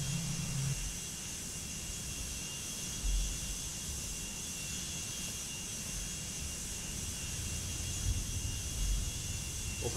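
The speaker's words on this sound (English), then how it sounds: "Also, the engine spinning speedy." A Boeing 757-330 in the Prepar3D flight simulator gives a steady, even roar of jet engines, a continuous broadband hum with no breaks throughout.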